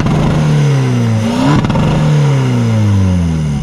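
A Volkswagen Polo TDI with a silencer revs hard nearby, its engine pitch climbing, dropping briefly at a gear change, then rising again, loud and continuous with no talking.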